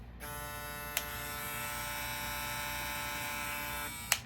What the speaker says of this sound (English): I've also been using the Shorty clipper